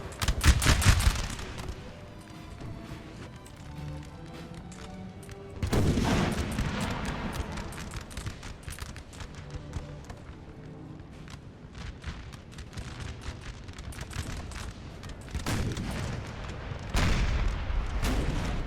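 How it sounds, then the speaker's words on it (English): Napoleonic battle in Total War 3, a 4v4 Battle of Corunna, rumbles with repeated artillery booms and crackling musket volleys, heavy bursts near the start, around six seconds and near the end, with dense gunfire between. "is this enemy artillery firing?"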